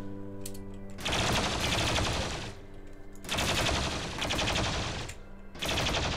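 Turret gunfire in the video game Rimworld comes in three long bursts of rapid, dense automatic fire, loud and close, with short quieter pauses between them.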